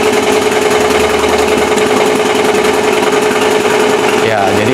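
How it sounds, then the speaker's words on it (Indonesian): A braille printer embossing a page, giving off a loud, continuous rapid mechanical hammering that runs throughout, with a shift in its drone near the end. "Kita lihat cara printer kita bekerja ya."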